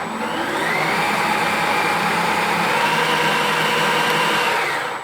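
Small electric motor of an RC snow blower mounted on a Traxxas TRX-4 runs at a steady high-pitched whine for about five seconds, close and continuous, with no voices.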